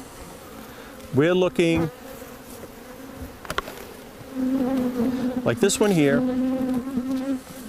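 Honey bees on hive frames give off a steady droning buzz that swells louder in the second half, close by, while someone talks briefly over it and a short tonal squeal cuts through near the start.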